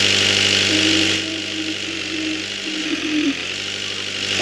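A small scooter engine hums steadily at mid pitch, loud and close, easing slightly partway through before swelling again at the end.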